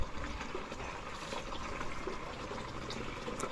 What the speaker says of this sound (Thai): ล้างให้สะอาดก่อน